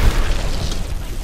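A frag grenade detonates in the shooter Apex Legends, one close, loud low boom that rumbles and fades over about a second with no talk.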